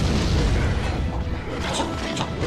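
Fiery ballistas fire in the Demon Stone video game, making a constant heavy rumble of booming blasts that stays loud and dense for the whole stretch.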